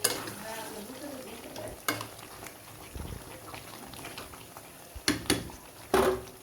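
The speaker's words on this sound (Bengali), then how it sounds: "এরপর যে আমি ভালো করে নেড়ে চেড়ে দিব" Goat meat curry being stirred in a pan, with soft scraping and sizzling frying noise throughout and a few sharper clinks of the utensil near the end, close and fairly quiet.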